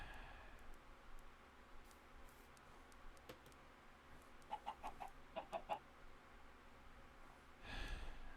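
Chickens in Minecraft give a quick run of soft clucks over low ambient game noise, with a breathy rustle near the end and no talking.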